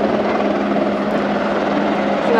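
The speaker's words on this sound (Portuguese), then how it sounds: "O helicóptero levando mais um corpo" Helicopter flying overhead at the Brumadinho dam disaster site in Minas Gerais, a loud, steady rotor and engine roar holding throughout without a break.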